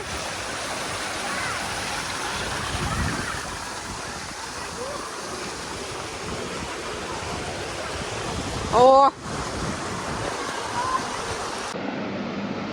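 Artificial waves in a water park wave pool imitating the sea, a steady broad rushing wash of water throughout, with a brief exclaiming voice and crowd murmur near the middle.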